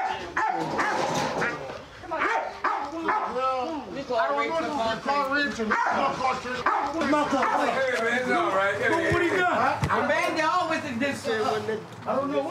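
A police K9 dog barks and yips in short bursts amid a tense outdoor arrest, mostly buried under continuous overlapping shouting from officers.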